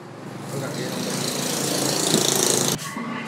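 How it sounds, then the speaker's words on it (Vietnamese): A 2024 Yamaha Exciter 155 VVA ABS motorcycle in Monster edition runs close by, giving a steady, loud engine drone that builds slightly and then dips briefly near the end. "Bây giờ sẽ là giây phút nổ máy."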